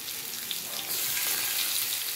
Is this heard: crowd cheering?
no